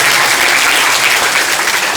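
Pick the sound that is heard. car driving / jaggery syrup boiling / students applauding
students applauding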